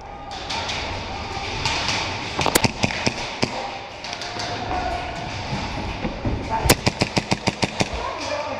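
Airsoft Hi-Capa pistol shooting during a skirmish game, sharp snapping shots, a few scattered early then a rapid string of about ten near the end, with other players' voices and background noise throughout.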